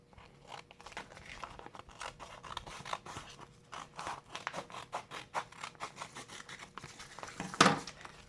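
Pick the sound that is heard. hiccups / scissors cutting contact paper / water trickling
scissors cutting contact paper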